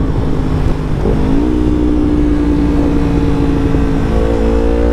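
A Yamaha MT-03 motorcycle fitted with a full aftermarket exhaust runs close by. Its engine note rises, dips and climbs again as the throttle is blipped, giving a loud, raspy tone with no talking over it.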